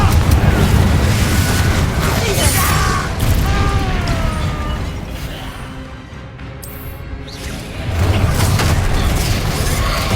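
Confringo explosive spell blasts in Hogwarts Legacy, booming bursts in a busy game battle with spell-casting voices and combat noise throughout, loud from start to finish.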